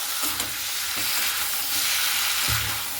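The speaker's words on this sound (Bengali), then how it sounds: "খুব ভালো মতো করে একটু নাড়াচাড়া করে নিচ্ছি" Fish head masala being stirred and fried in a pan, with a steady broadband sizzle and scraping spoon strokes recurring at a loose rhythm, close and moderately loud, no talk.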